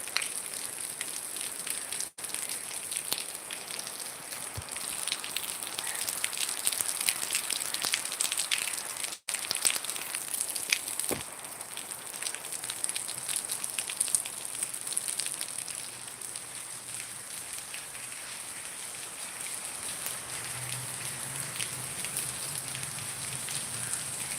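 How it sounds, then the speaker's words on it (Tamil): Heavy rain falls steadily and continuously for a long stretch in Padappai, a dense hiss of drops on surfaces with no voices, broken only by a couple of brief cuts. "முப்பது நிமிடங்களாக மழை பெய்து கொண்டிருக்கிறது"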